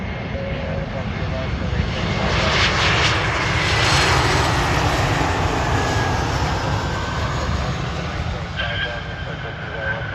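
An Airbus A321 airliner passes at Cleveland airport on a foggy evening, its loud jet engine roar swelling and holding steadily across the clip, with faint radio talk in the background.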